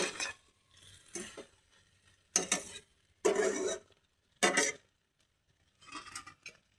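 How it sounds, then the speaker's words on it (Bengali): A metal lid lifted off a pan of capsicum and potato curry, with several short clattering scrapes and clinks of cookware close by, separated by brief quiet gaps. "তো আমরা এখন এই ঢাকনাটাকে সরায় নেব"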